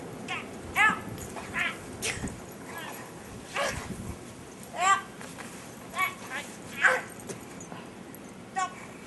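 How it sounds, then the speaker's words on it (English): A puppy out in the snow during a blizzard gives a string of short whimpers and high yips, a dozen or so brief bursts scattered through the stretch, close by against a soft background hiss. "Nice, puppy."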